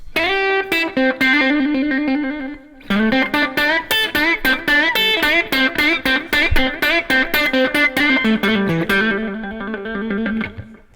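An overdriven electric guitar plays a bluesy lick, with rapid, clearly picked notes and bends ringing loud and close, pausing briefly midway before running on to a sustained finish.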